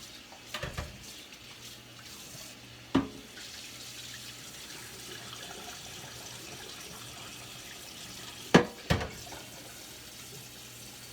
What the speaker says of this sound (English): So every now and then I pour the water off